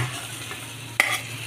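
Bay leaf and green chillies fry in hot oil with a soft continuous sizzle, then a spoon scrapes and stirs the pan once with a brief sharp clink, close and fairly quiet.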